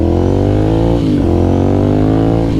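A loud 2009 Ducati Monster 1100 motorcycle engine revs close by, its pitch sliding down after a brief blip and holding a strong, rumbling idle.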